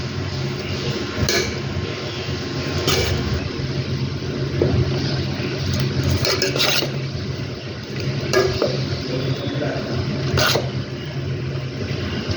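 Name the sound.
stirring creamy spaghetti sauce in a pan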